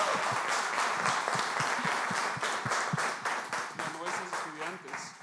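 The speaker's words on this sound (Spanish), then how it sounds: "Un aplauso, por favor." Auditorium audience in Bogotá applauding steadily at a live English talks event, dense clapping throughout with a voice starting to speak over it near the end.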